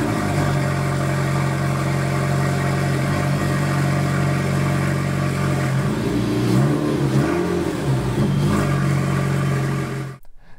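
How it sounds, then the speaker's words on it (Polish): Alpine A110 R 1.8 with optional Akrapovič exhaust, a steady raspy engine note held high with a brief surge in pitch midway, loud and close, cutting off abruptly near the end. "w testowanym egzemplarzu znalazł się opcjonalny układ Akrapowicza za 17 400 zł, który brzmi genialnie od odpalenia na zimnym silniku, aż po jakieś późniejsze przyspieszanie"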